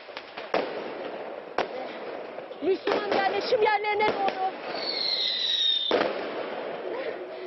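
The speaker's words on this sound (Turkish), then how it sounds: "Görüyorsunuz bu fişekler patlıyor havada." Flares fired toward homes burst in the air during a violent crackdown in a Muslim quarter of Jerusalem, sharp pops and crackling bursts with a rising whistle, over crowd noise and someone speaking.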